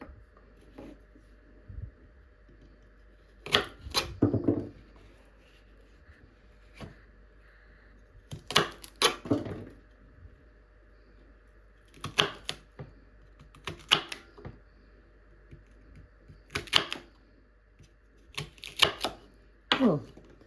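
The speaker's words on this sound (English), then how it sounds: "so we chop off the ends" A knife chops the ends off okra on a cutting board, landing in crisp, separate knocks that come in small clusters of two or three with pauses between them and no voices over them.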